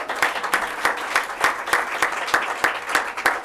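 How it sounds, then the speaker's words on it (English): An audience at a Sierra Club Beyond Coal funding announcement claps in steady applause, close and continuous with a rhythmic pulse of many hands. "You can applaud"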